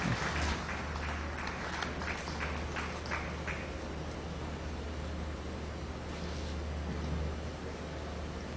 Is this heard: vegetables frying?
no